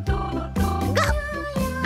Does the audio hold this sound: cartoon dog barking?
yes